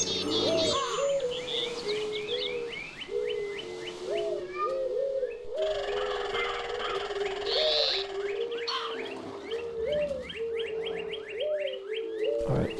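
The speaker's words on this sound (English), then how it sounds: "It's so noisy with those birds in it." Birds chirp and call repeatedly in a tree in the Minecraft Technic modpack, steady overlapping tweets and coos over a low game ambience with no talking.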